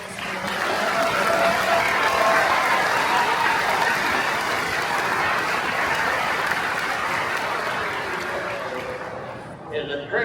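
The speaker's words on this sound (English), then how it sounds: "big round of applause and thanks" A crowd applauds steadily for several seconds, dense clapping that swells and then fades out, with voices faintly mixed in.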